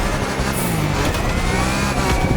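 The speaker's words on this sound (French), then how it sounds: "Allez, là j'ai la voiture puissante." A powerful, fully upgraded car engine in a racing video game roars loudly and continuously, a dense, rough, steady drone with no voices over it.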